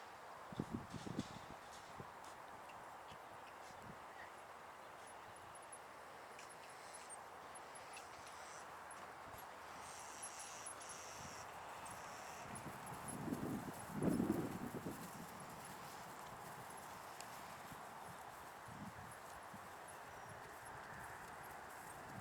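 A horse being ridden through a dressage test in an arena, hooves thudding softly and steadily at a distance, with a brief louder scuffle midway.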